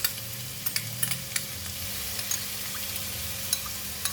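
Pickled vegetable drops into a hot pan of frying meat for braised rice pin noodles, giving a low, steady sizzle broken by sharp clicks and scrapes from a stirring utensil, fairly quiet and close.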